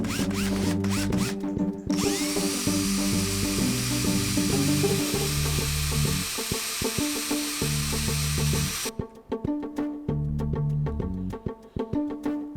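A power drill spins a bit against the sapphire face of an Apple Watch in a scratch test, a loud continuous high whine for several seconds between choppy bursts of motor start-stop grinding.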